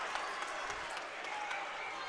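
Crowd cheering at a high school basketball game between Central High and Denham Springs, a broad roar of voices and clapping held at a fairly faint distance, with a commentator talking over it.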